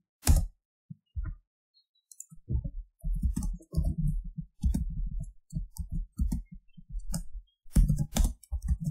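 Keys on a computer keyboard tap out short, spaced clusters of clicks, close and fairly loud, with brief pauses between bursts in a quiet room.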